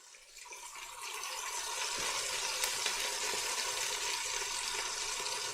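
Meat chops sear in a hot pan, a loud steady sizzle that builds in the first second and then holds evenly, close up with no talking.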